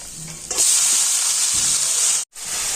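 Amaranth greens (note shak) fry in a pan with onions, giving a loud, steady close-up sizzle and hiss that starts abruptly and breaks off for a moment near the end.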